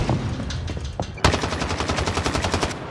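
Rapid automatic gunfire rattles in Call of Duty: Modern Warfare, a short burst followed by a sharp crack and then a fast, even stream of shots, loud and close.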